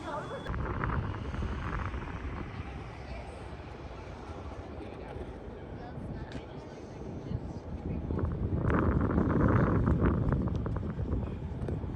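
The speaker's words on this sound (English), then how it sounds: "There's a lot of wind right here." Strong wind gusts at the front edge of the Hoover Dam wall give a constant low roar and buffeting that swells louder near the end, with voices faintly mixed in.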